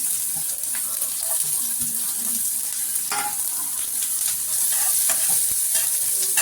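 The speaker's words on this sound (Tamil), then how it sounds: "ஆனியன் வதங்கட்டும்." Sliced onion fries in sesame oil with mustard seeds and urad dal in a pan, giving a constant close sizzle broken by occasional stirring scrapes and clinks.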